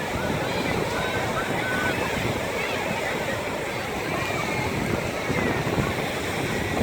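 Ocean surf rolls onto Coney Island beach in New York, a steady, loud wash of waves mixed with wind buffeting the microphone, with faint voices underneath.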